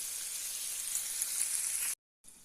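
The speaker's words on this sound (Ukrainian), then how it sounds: "Яєчня смажиться." Eggs and bacon sizzle and crackle steadily in a hot pan, a bright constant hiss that cuts out briefly near the end.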